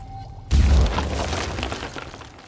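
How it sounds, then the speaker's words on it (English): Grenade blast in the turn-based strategy game Phoenix Point: Terror from the Void, a sudden loud close boom with a heavy low thump and shattering debris that decays over two seconds after a near-silent start. "get a grenade in"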